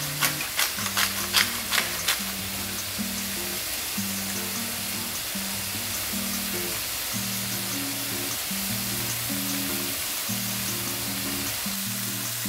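Chicken seasoned with paprika frying in a pan, a steady loud close sizzle lasting throughout, with a few sharp pops and spatters at the start and background music underneath.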